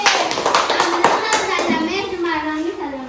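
Children in a classroom clap their hands, a few sharp claps up front followed by rhythmic clapping, while young voices talk and sing-song over it.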